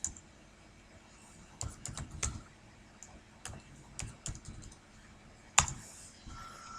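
Someone types on a computer keyboard, entering a local web address to open a Laravel 4.2 installation, in short irregular bursts of close, light key clicks separated by pauses, with one sharper keystroke near the end.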